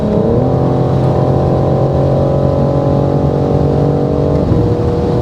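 2025 BMW M4 LCI at top speed on the Autobahn, its engine holding a loud, steady high drone with layered harmonics as it sits on the rev limiter, ending in a slight drop in pitch.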